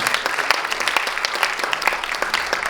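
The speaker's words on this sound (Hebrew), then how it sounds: "תנו אותו מחיאות כפיים לבמאי שלנו" An audience applauds a film director at an awards ceremony, dense steady clapping throughout, close and full with no voices.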